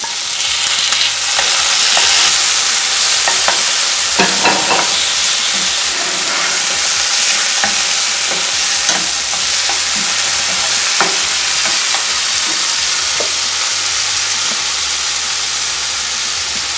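Chopped onions and tomato sautéing in a pan for poha, a loud continuous sizzle with repeated scrapes and clacks of a spatula stirring.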